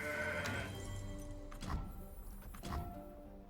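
A mountain goat from the card game Legends of Runeterra: Path of Champions lets out a short nasal bleat, then two quick thudding hits follow over quiet game music.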